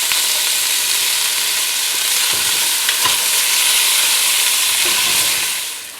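Beef pieces for a French casserole frying in a hot pan, a loud continuous sizzle with occasional scraping stirs, tapering off at the end.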